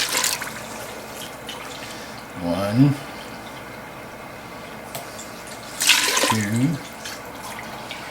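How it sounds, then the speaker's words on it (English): Water pours from a tap in bursts, measured out cup by cup for canning syrup for pressure-canned sweet potatoes. Two short splashing fills sound up close, each followed by a pause, and a voice counts between them. "I'm going to use 5 1/4 cups of water."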